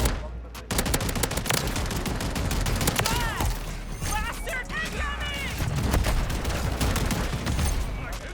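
Riveter shotgun in Call of Duty MW3 firing in rapid bursts of loud, close blasts amid other battlefield gunfire, with a player's voice talking between shots.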